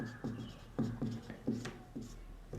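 An equation written out by hand during a trigonometry lesson, close and quiet: a run of short scratchy pen strokes with brief pauses between them, no voice.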